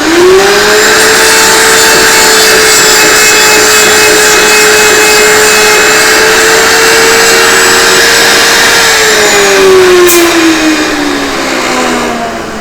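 A loud power saw runs continuously through wood to cut a mortise for a web frame, producing a steady high motor whine up close that slows and drops in pitch near the end, with no voices.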